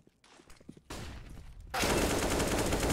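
Gunfire in a competitive CS:GO match between Black Sheep Hooligans and Innovation Team Vanquish. A few light taps lead into sharp bursts of shots, then a loud, dense wash of firing noise.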